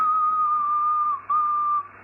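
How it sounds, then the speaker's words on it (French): A single steady, high-pitched whistle into a ham radio microphone holds for about a second, breaks briefly, then resumes, heard through a radio with a low hum beneath. "Tu peux siffler pour voir combien tu es en pointe?"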